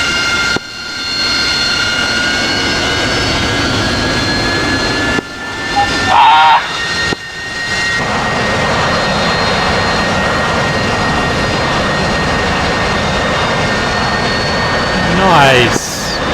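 A fighter jet engine spools at full power in the DCS World flight simulator, a loud steady whining roar with tonal engine whine, briefly interrupted by sharp cuts and shifts, and a voice talking over it.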